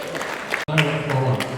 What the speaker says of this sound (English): So please let me applaud you.